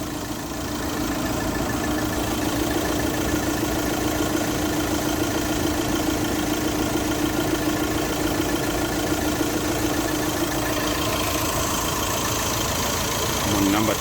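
A diesel car engine idles steadily, a low even rumble with a faint rhythmic knock running close by for the whole stretch, while someone talks quietly over it.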